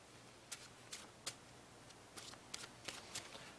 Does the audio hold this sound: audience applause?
no